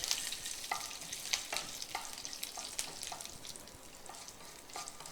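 Cumin seeds splutter in hot oil for a Konkani-style dish, giving close, steady sizzling with sharp crackles and pops scattered throughout, and no voices.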